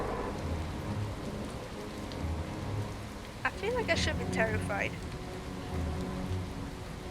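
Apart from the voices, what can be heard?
rain and thunder of a thunderstorm in video game Far From Noise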